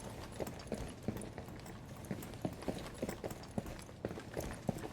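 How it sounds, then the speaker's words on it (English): Rapid walking footsteps in the tactical shooter Rainbow Six Siege, a steady run of close, evenly spaced thuds over low ambient game noise, with no talk. "If you listen to how fast the footsteps come after one another."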